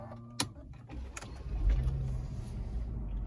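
A 2007 Mercedes E350 starts up from inside the car: a few sharp clicks, then the engine catching and settling into a low, steady idle rumble, fairly quiet and close.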